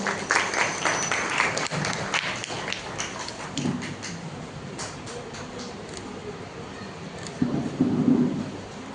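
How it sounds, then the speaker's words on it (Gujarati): At a Saraswati Sanman ceremony, an audience gives quiet, crackling applause to welcome an honoured student, a scattered patter of claps that swells slightly near the end. "તાળીઓથી વધાવીએ"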